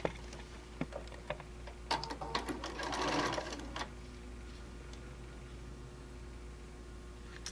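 Sewing machine stitching a quarter-inch seam while piecing a quilt, faint and close, with a short burst of rapid mechanical stitching in the middle, scattered ticks and clicks before it, and a low steady hum throughout.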